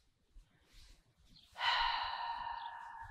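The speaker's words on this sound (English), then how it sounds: "Plastic flapping in the wind." Plastic sheeting on an Airstream trailer under renovation, flapping in the wind with a brief rustle, then a sustained noisy flutter, faint against quiet background rumble.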